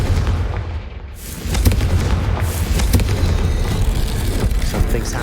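A Confringo fire spell bursts in Hogwarts Legacy, a booming, continuous rumble of explosive impact with crackling debris that swells after the first second and stays loud and dense throughout.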